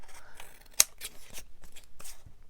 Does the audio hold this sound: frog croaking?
no